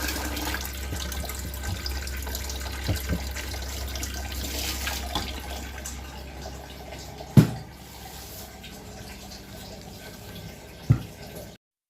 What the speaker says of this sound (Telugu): ఇక్కడ ఎక్కడికి నీళ్ళు పట్టుకుంటున్నాను ఒక పక్క బియ్యం కడిగేస్తాను